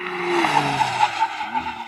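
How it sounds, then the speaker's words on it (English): A McLaren Artura brakes hard from 100 mph, its tires skidding and squealing in a steady, loud screech with a low engine drone underneath, lasting about two seconds without talk. "Now I'm going to do a brake test from 100 miles an hour."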